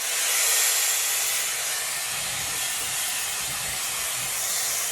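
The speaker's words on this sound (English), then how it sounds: "I'm going to literally blow an air dryer, so just to be careful, but this is what it sounds like." A Dyson Airwrap hair dryer runs on its maximum fan setting, giving a loud, continuous close-up whoosh of rushing air with an even, steady hiss throughout.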